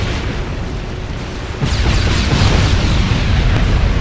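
Bomb explosions in the real-time strategy game Halo Wars, a rumbling blast that swells suddenly partway through into a loud, sustained, heavy roar of detonations.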